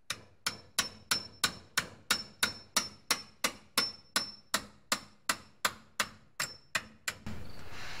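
Metal hammer blows ring out on a 1979 Chevy K20 brake master cylinder during removal, about twenty evenly spaced, sharp strikes, then a short stretch of hiss at the end.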